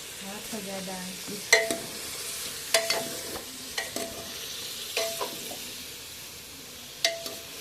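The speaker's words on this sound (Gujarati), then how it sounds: "આપણા રીંગણા 10-15 મિનિટ સુધી હવે તેલમાં ફેરવવાના છે" Stuffed brinjals sizzle softly in oil as a spatula scrapes and taps the pan in irregular strokes, close by and fairly quiet, with no talk.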